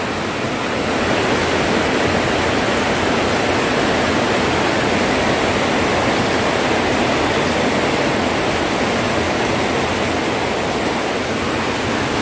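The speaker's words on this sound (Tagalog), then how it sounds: "Ang lakas ng tulo, oh." Heavy, constant rush of rainwater leaking and pouring, splashing dense and unbroken, close by with no voices.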